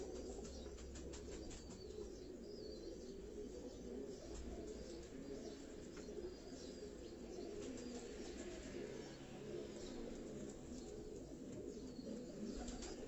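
Steady low cooing of breeder pigeons in a Karachi loft throughout, a soft continuous murmur of many birds with occasional faint chirps and fluttering.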